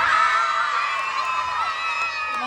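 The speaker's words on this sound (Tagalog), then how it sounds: "Wala rin po bang hiyawan dyan?" A pageant crowd at Bekshie ng Maynila 2024 whoops and shouts during the national costume segment, a sustained loud swell of cheering voices with rising and falling shrieks layered over constant crowd noise.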